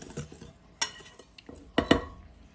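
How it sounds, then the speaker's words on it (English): A whisk knocks against a bowl while flour and custard powder are mixed for a Guyanese pine slice pastry, giving a few sharp clinks and scrapes at irregular intervals, close and fairly quiet. "you want to use a whisk that will help you take some of the lumps out of the flour and the custard powder as well"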